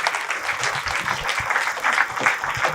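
An audience at a spiritual trust gathering applauds as a guest is welcomed onto the stage. The clapping is dense and steady throughout, fairly close and moderately loud, with faint voices mixed in.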